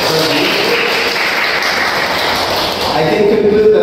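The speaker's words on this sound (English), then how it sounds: "give applause for you guys." Students applauding in a classroom, a dense, continuous patter of clapping at moderate loudness throughout, with faint voices underneath.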